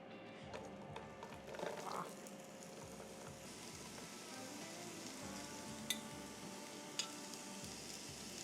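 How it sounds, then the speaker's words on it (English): Chopped onions sizzle and crackle in a little hot oil in a pan preheated over medium-high heat, a steady close frying hiss with a few sharp pops. "I'm gonna add just a little bit of oil, and I'm gonna add those onions"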